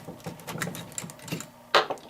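2.5 inch Prime Guard exterior screws driven into the leg of a miter saw bench, a brief loud whirring burst of the driver near the end following quieter workshop clatter.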